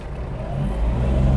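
A Kubota GL-320 Japanese mini tractor engine revs up under full throttle, a loud, close, steady mechanical drone that rises slightly in intensity over a short stretch, with no talk.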